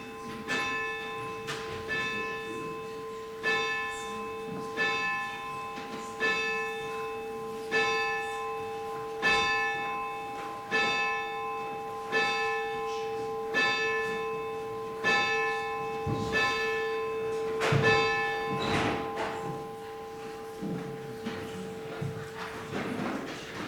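A church bell tolls on its own, loud and resonant, struck at a slow, steady pace roughly every one to two seconds, each ringing stroke overlapping the fading hum of the one before.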